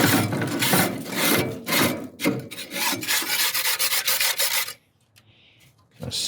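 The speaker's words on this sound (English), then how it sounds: "I'll scrape it all off there." A scraper rasps grime off gas grill grates in loud, rapid back-and-forth strokes, continuous for several seconds, then briefly stops before another scrape.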